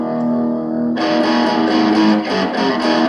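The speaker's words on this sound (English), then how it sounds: "So as I start to turn the gain knob more to the right, I'm getting even more distortion" Overdriven electric guitar chords ring out, the tone turning grittier and more saturated partway through, with sustained distorted strums and no talking.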